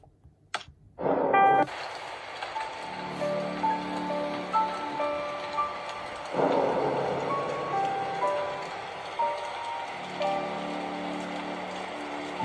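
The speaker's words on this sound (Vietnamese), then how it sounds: "Đêm hôm ngoài trời đang mưa" Rain falling at night in the Slendrina horror video game, with a sharp burst near the start like a thunderclap, then steady soft rainfall under sustained eerie musical tones.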